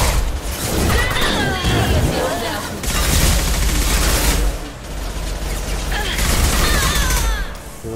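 Sustained gunfire in the Mass Effect 2 video game: loud bursts of rapid shots and booms arrive in waves over several seconds, with voices and game sounds mixed in.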